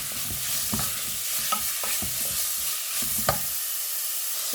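Beetroot is stirred in a frying pan, a bright steady sizzle under repeated light scrapes and taps of the utensil, close up with no talking.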